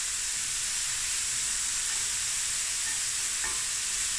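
Ingredients sweating down in about a tablespoon of oil in a pan for a steak mince pasta bake, a steady close hiss of frying running evenly throughout with no talking.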